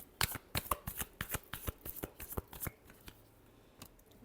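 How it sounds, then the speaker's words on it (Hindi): Tarot cards are shuffled by hand in a quick series of crisp riffling flicks, close and fairly quiet, the rhythm slowing and thinning out toward the end. "last shuffle"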